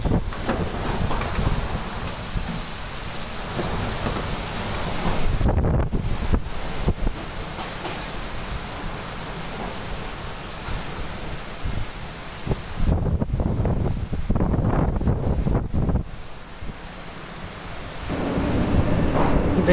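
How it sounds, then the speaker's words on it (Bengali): A Kalbaishakhi nor'wester storm blows outdoors as a loud, continuous roar of gusting wind that buffets the microphone, surging and easing over nearly twenty seconds. "কাল বৈশাখীর ঝড় কয়েক বছরের মধ্যে প্রথম দেখতে পেলাম।"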